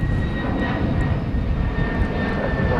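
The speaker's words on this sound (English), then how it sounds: "We have a go-around." A passenger jet roars steadily through a go-around at DFW Airport at night, its loud, continuous engine noise holding broad and even for the whole stretch with no talk over it.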